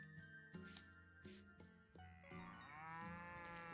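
Cows in a cozy farming video game moo in a series of short calls over soft game music, followed by a longer sustained moo-like tone with a bright chime-like layer.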